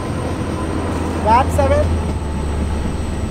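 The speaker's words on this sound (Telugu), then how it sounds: "ఆపోజిట్లో ఒక ట్రైన్ కూడా వస్తుంది" In an Indian train simulator game, the Netravati Express passes in the opposite direction with a steady low rumble and a brief swell. Someone speaks briefly over it.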